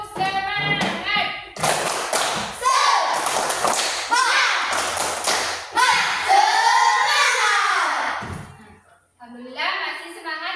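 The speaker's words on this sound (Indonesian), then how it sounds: "Kita tepuk semangat dulu, boleh?" A classroom of children performs a rhythmic Indonesian spirit clap, sharp patterned handclaps and thuds mixed with loud children's voices chanting along, ending with a short pause and more voices.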